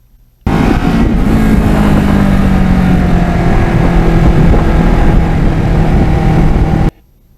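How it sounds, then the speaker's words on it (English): A motorcycle engine, recorded on a GoPro for a Windslayer test, revs loudly and continuously through varying throttle openings and back-offs. The pitch rises and falls over about six seconds, then cuts off abruptly, with no voices. "Trying various throttle openings and backing off the gas."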